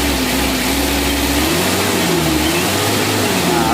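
A Mitsubishi L300 engine revs up and eases off in short, loud, close blips, a steady motor drone with rising and falling pitch and no talk over it.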